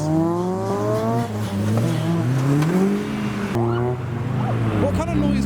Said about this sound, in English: Did the car just scream?